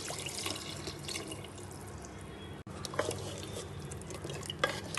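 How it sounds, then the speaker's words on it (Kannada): Water is poured into a pot to cook mushroom biryani, a faint, close splashing and trickling with small drips and clinks that runs for several seconds with a brief pause midway. "ಇವಾಗ ಇದಕ್ಕೆ ನೀರು ಹಾಕ್ತೀನಿ."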